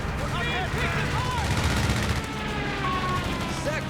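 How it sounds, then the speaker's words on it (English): An anti-tank gun fires in a Company of Heroes 3 battle, with dense bursts of gunfire, booming shots and a whistle-like tone over the ongoing fight, and a voice talking over it. "zoned by an AT gun."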